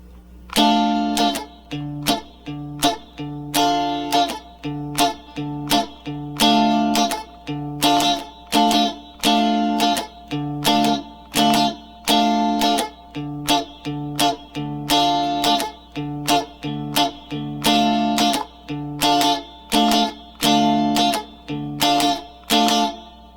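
A guitar strummed in a steady repeating rhythm of down and up strokes for a song, close and clear with no talking.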